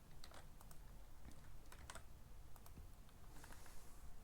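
Computer keyboard typing while filling in a Google Form, a soft, quick run of irregular key clicks close by, with no talking.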